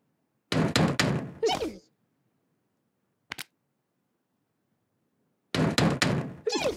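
Two bursts of loud, rapid knocking on a door, each a cluster of sharp raps, separated by a single isolated thud in otherwise silent surroundings.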